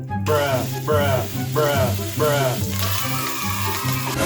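Bacon and sliced sausage fry in a pan for an American breakfast, giving a loud, steady sizzle with bursts of crackling that rise and fall, close up and with no talk.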